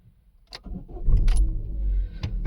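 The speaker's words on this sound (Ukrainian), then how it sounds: "Давайте спробуємо завести автомобіль, послухати роботу двигуна" A 2014 Chevrolet Cruze engine cranks and catches around the one-second mark, then settles into a steady, fairly loud running hum with a few brief clicks and jingles.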